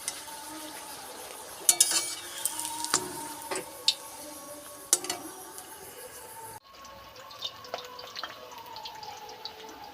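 Luchi, puffed fried bread, cooking in overheated oil gives a steady close sizzle with scattered pops and crackles, broken by a brief dip about two-thirds of the way through.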